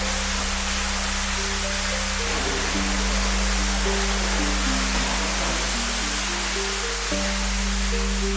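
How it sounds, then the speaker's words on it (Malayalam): Indoor waterfall inside a resort room beside a private pool, with a loud, steady broadband rush of falling water that fills the space continuously, with a faint low hum underneath. "റൂമിന്റെ അകത്ത് തന്നെ പ്രൈവറ്റ് പൂളും ഉണ്ട്, അതോടൊപ്പം തന്നെ വെള്ളച്ചാട്ടം ഉണ്ട്"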